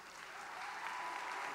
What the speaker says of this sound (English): Loud applause for this excellence, display of excellence